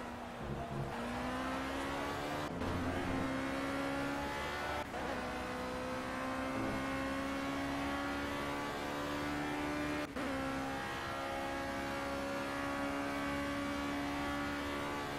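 Race car engine in the video game Project CARS, a steady high whine climbing in pitch through the gears with a few abrupt shift breaks, continuous and fairly quiet throughout.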